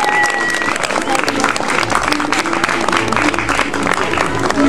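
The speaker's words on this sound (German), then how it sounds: "Und ich übergebe dir das, begleitet mit einem donnernden Applaus und mit Jubelgeschrei aus dem Publikum für Joelle." A crowd at the crowning of the 2014 gingerbread princess at the Pfefferkuchenfest breaks into loud, sustained applause and cheering, with a voice speaking over it.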